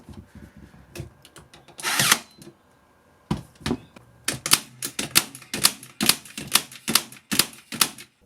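An Ozito cordless 12v stapler and nailer firing into pine, sharp snapping shots, first sparse and then in a rapid irregular run of loud close cracks.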